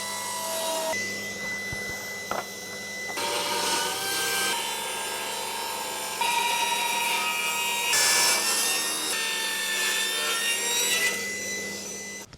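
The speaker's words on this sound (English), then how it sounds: "So what I'm going to do for today is just do it on the bandsaw" A bandsaw cuts through firewood with a steady, close, loud whining buzz and a rough rasp, and the tone shifts in pitch as the blade works through the log.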